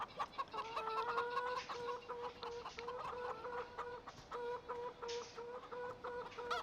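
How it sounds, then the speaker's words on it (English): Hens in Farming Simulator 17's Goldcrest Valley farm cluck steadily in a repeated, rhythmic chorus, fairly close but soft, with no voices over them. "Let's go see if our hens have any eggs over here."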